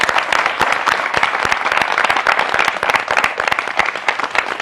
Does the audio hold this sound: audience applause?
yes